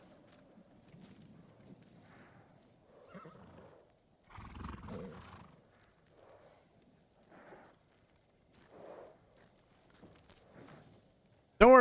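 A horse in a video game neighs and snorts in a few separate soft bursts, with faint hoof sounds between them, in a quiet game scene.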